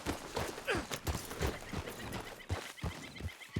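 Horse in the Red Dead Redemption 2 video game, hooves clip-clopping in an uneven walking rhythm with a brief whinny early on, close and moderately loud.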